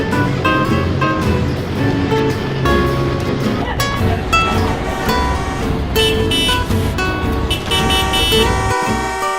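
Car horns honk from passing traffic at a roadside spot where people cheer for honks, a dense, loud mix of toots and beeps over steady road noise with shouting voices throughout.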